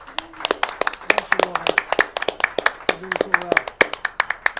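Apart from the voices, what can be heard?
audience applause for young interns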